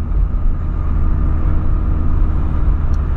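A VW Polo fitted with a new exhaust holds a steady, loud, deep engine drone for a few seconds, a continuous low rumble without distinct rev peaks.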